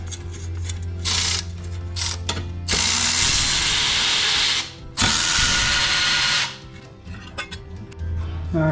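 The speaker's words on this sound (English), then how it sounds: "I'm removing the bolts out of the bottom of the subframe." A ratchet removes the bolts from the bottom of a BMW 335i subframe, using an E12 Torx socket. Rapid loud clicking comes in several bursts, with short pauses between them.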